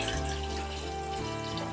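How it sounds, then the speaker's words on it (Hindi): Water poured into a pot to cook Korean hot chilli noodles, a steady close rushing stream lasting the whole moment at even loudness. "अभी इसमें जो 2 कप पानी है वो डाल दिया है"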